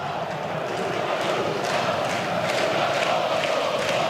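Big football stadium crowd at a Nations League match between Montenegro and Wales, roaring steadily as a loud, unbroken wash of noise that holds at the same level from start to finish.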